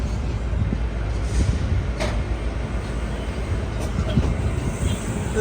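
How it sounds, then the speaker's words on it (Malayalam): A train runs past a railway station, a continuous low rumble and rolling rattle that holds steady and fairly close throughout. "ഇത് ഇതുവഴി ഒരു ട്രെയിൻ വരുന്നുണ്ട്"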